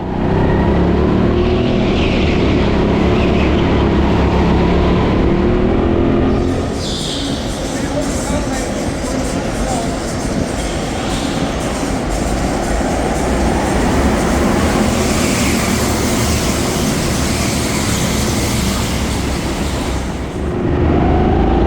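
Go-karts at an indoor TeamSport Sheffield track accelerate away from a race start, a loud, dense engine roar that rises and swells after a few seconds and holds, with a voice talking over it.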